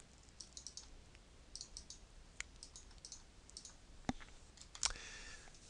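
Faint computer mouse clicks sound while a part is edited in SolidWorks software. Soft, scattered single and double clicks are spread across a quiet room, with a couple of sharper clicks near the end.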